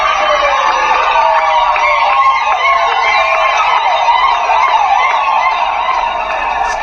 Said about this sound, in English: These women continued to dance and cheer for a good 15 minutes